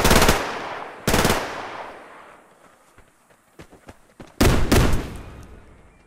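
Gunfire from the online shooter Survarium: sharp, loud bursts of automatic fire in three clusters, separated by quieter gaps with a few scattered single shots.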